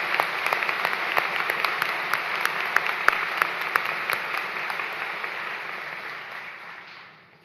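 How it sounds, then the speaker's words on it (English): An audience claps for college administrators at a commencement ceremony, sustained applause from a large crowd that gradually thins and then fades out. "Your applause for our administrator."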